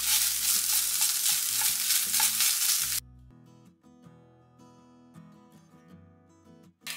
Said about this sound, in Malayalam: ഇനി നല്ലപോലെ ഒന്ന് ഇളക്കി കൊടുക്കാം